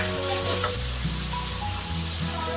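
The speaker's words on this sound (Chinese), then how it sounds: "这样来炒一分钟" Zucchini and eggs stir-frying in a pan, giving a steady, close sizzle with soft scraping stirs throughout and no talk.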